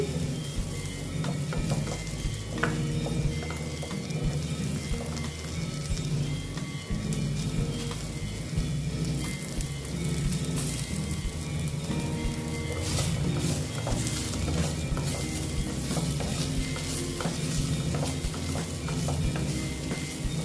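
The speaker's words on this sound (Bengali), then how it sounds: "দিয়ে এটাকে একটু নেড়ে চেড়ে নিচ্ছি" Gram-flour-coated okra fries and sizzles in a pan on the stove, stirred steadily with a spatula, giving a dense, continuous crackle with scraping throughout, close and fairly loud, with no talk.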